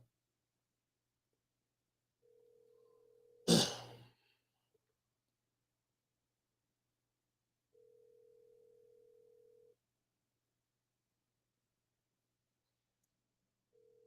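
An outgoing phone call rings unanswered, with a steady ringback tone sounding in three spaced bursts and a sharp click or clunk near the start of the second tone. No one speaks.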